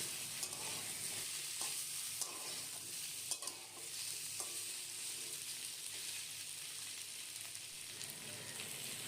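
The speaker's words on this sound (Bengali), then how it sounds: "আদাটাকে এবারে নেড়েচেড়ে নিয়ে 2-3 মিনিটের জন্য ভেজে নিচ্ছি" Ginger paste and slit green chillies fry in oil, giving a soft, steady sizzle with occasional scraping clicks from a utensil stirring them.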